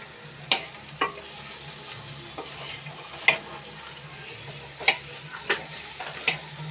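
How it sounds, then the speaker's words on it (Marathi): Chopped banana stem is stirred into oil with turmeric, masala and coriander powder in a pan. A spoon scrapes and taps against the metal in a handful of separate strokes over a soft, quiet sizzle. "आता ही भाजी त्याच्यात मिक्स करूया."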